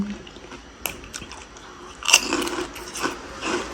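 Crunchy Thai pork rinds are bitten and chewed close up, with a loud crisp bite followed by a run of crackling, crunching chews.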